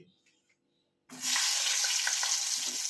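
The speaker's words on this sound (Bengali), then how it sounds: "এবার আমি এই নুন হলুদ মাখানো পটলগুলো এই তেলের মধ্যে ছেড়ে দেব" Whole pointed gourds (potol), slit and coated with salt and turmeric, drop into hot oil after a near-silent moment, bursting into a loud, dense, sustained sizzle close up.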